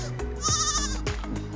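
Sheep roaming freely on open plains bleat in a loud, wavering cry close by, with other animal sounds and low rumbling around it.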